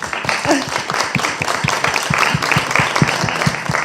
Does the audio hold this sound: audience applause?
yes